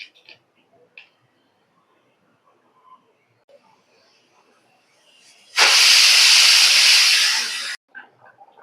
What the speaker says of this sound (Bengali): এখন আমি 3 থেকে 4টা সিটি বাজিয়ে নেব।